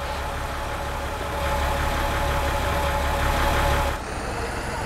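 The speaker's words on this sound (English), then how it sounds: "His bus didn't pass inspection either. It's missing a muffler." Bus engine idling with no muffler in the Arma 3 military video game, a loud, harsh, steady low rumble that swells slightly in the middle before easing back.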